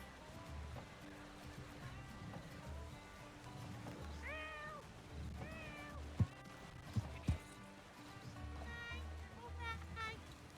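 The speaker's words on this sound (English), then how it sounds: "Very strange cat noise." A cat meows several times in a video game, rising and falling cries heard faintly amid game ambience, with a few sharp thumps and people talking.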